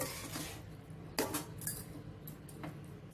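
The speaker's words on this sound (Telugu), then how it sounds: "ఇప్పుడు ఈ రైస్ని అంతా బాగా కలుపుకోవాలి" A spoon scrapes and clinks against a pan while cooked rice is mixed into tomato rice, giving a few quiet metallic taps and scrapes over a soft background, with no voices.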